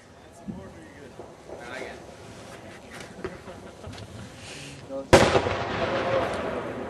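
Fireworks set off at night near a boat on the water, with a sharp loud burst late on followed by crackling, after a stretch of distant pops under people talking.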